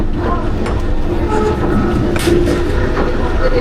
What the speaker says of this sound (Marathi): ट्रेन चालले उरण लाईन